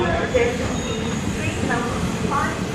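A passenger train rumbles at the Kothavalasa junction platform on the Visakhapatnam to Araku line, with a steady rolling drone and faint wheel squeals, under a person's voice.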